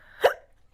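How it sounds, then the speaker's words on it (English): A single sharp hiccup, close and fairly loud, standing alone against a quiet background. "Now I got the hiccups again."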